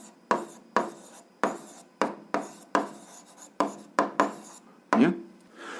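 Pen writing out a short algebra answer on paper, a series of about ten crisp scratching strokes with brief gaps between them, close and fairly quiet.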